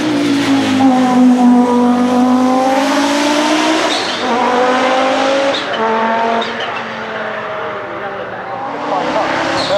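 Audi 90 IMSA GTO race car with a turbocharged five-cylinder engine at Goodwood, loud and close, rising through the gears with repeated revs and shifts, tires squealing at moments and a voice briefly audible under the engine.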